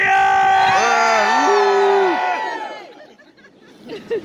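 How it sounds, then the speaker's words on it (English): A large crowd roars and cheers loudly, with whoops and shouts swelling together for a couple of seconds before fading into scattered voices. "And the crowd would go wild and cheer!"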